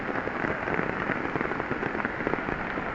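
Heavy rain pours steadily over flooded crop fields in Venkatapur village, Medak, a dense, continuous hiss of drops hitting surfaces with scattered sharper splashes throughout, close and unbroken.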